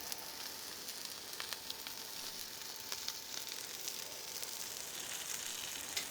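A steak sears on a hot griddle under a heavy weight, giving a steady, close, bright sizzle with scattered crackling pops throughout and no talking.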